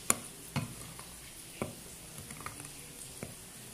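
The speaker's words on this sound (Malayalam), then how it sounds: "നമുക്കിതൊന്ന് ബാറ്റർ റെഡിയാക്കി എടുക്കാം." A jaggery and whole wheat flour cake batter is mixed in a bowl, giving faint, scattered taps and soft scrapes at an irregular pace over a quiet background.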